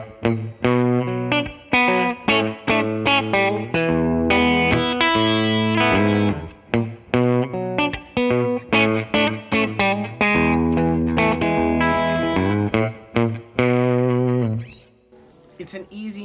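Distorted electric guitar plays chords and riffs drenched in reverb, notes ringing out and trailing off, loud and close.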